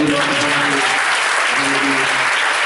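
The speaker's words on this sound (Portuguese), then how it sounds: "Aplauda o Senhor Jesus." Loud, vigorous clapping from a congregation during an Assembleia de Deus deliverance worship service in a church, sustained and close, with faint tonal voices or music humming beneath the applause.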